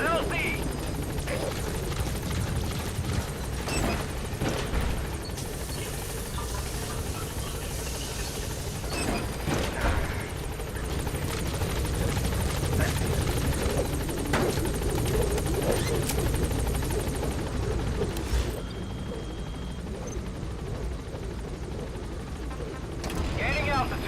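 Pequod helicopter hovering at the landing zone in Metal Gear Solid V, a steady close rotor roar with engine whine running throughout, with voices talking over it.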